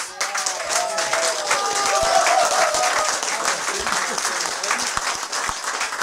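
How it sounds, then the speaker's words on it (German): Steady crowd applause fills the room as a talk show audience welcomes a guest, dense clapping that swells slightly and holds, with some voices mixed in. "Begrüßen Sie bitte mit mir, hier ist Tobias Kreiten, Applaus"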